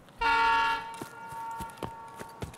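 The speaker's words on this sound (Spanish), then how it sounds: "Cuando toque la bocina del tren nos vamos" A train horn in Escape From Tarkov blares loud and steady for about half a second, then cuts off, leaving quiet background with a few soft thumps and clicks.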